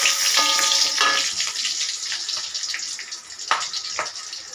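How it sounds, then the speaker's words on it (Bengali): Garlic and onion fry in hot oil with a loud, close, crackling sizzle that starts strong, settles to a steadier hiss, and picks up a few sharp pops near the end. "পেঁয়াজও দিই, আজকে রসুন দিলাম।"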